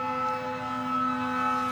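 A siren sound effect is played on a sports podcast, giving a steady tonal wail with strong, stable pitches that sounds close and fairly loud, with no voices over it.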